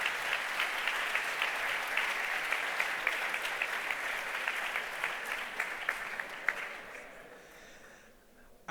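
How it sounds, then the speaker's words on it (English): Audience at the HackUPC 2023 hackathon closing ceremony, a sustained wash of clapping from a large crowd that stays loud for several seconds before fading out. "Can we please give them a round of applause that they deserve?"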